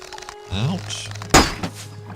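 Throwing stars striking the player character in the video game Morrowind, a single sharp thwacking hit landing loudly over a background of game music and ambient effects.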